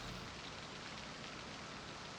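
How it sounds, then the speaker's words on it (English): Steady rain falling in the Project Zomboid video game, a constant soft hiss of drops on surfaces, fairly quiet and even, with no voices. "Especially with how much it's raining,"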